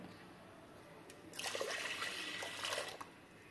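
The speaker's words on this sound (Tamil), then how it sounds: "அந்த பால் கூட இந்த கப்புக்கு 1 கப்பு தண்ணி சேர்த்த போகிறோம்." Water is poured steadily into a pot of milk for about two seconds while making sweet pongal, a soft close splashing trickle over a quiet background hiss.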